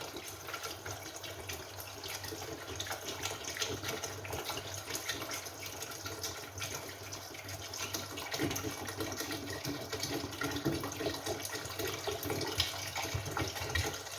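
Water poured from a bottle into a pot of mutton paye makes a steady, faint, continuous splashing trickle that runs without a break and has no talking over it.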